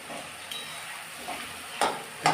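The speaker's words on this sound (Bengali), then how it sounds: "খানিকটা ভাজা হোক," Chopped tomatoes and onion frying in a pan for a Katla fish with spinach curry, a soft steady sizzle broken by a few louder stirring scrapes near the end.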